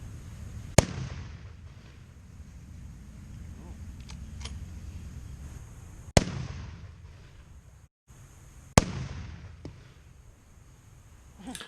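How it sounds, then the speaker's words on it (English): Three sharp rifle shots, spaced several seconds apart, each a loud, abrupt crack followed by a brief decay, with a low outdoor rumble between them. "you saw all 3 of us shooting the same rifle with the same mount and getting different results"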